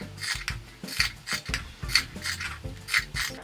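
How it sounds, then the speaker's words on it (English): Scissors slice a cotton T-shirt into thin strips: a rhythmic series of about seven crisp, close snips and rasps, each roughly half a second apart. "What I'm going to do now is cut into these and make tiny little strips in this direction"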